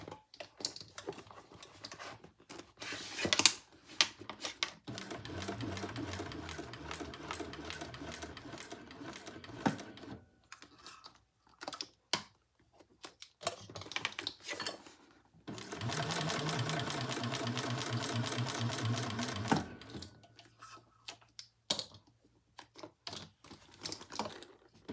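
A sewing machine stitches a crossbody bag in two long runs of rapid, steady mechanical chatter with pauses between them. Scattered clicks and handling noises fill the gaps. Nobody speaks.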